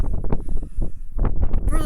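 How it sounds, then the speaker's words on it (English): Gusty wind buffets the microphone outdoors on a farm, loud and rumbling in uneven surges that swell and ease throughout. "Wind has died down some, but it's still windy out here."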